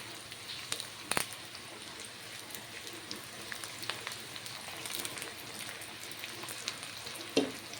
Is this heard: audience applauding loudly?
no